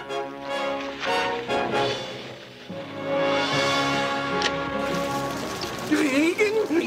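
Steady patter of rain mixed with a cartoon music score, with a voice speaking briefly toward the end.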